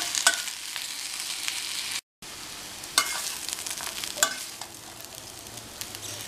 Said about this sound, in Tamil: நல்லா பக்கத்துலேயே இருந்து நல்லா ட்ரை ஆகி கிறிஸ்பாக வர வரைக்கும் வதக்கிக்கலாம்.